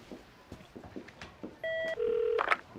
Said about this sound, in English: get Ashley on the phone, please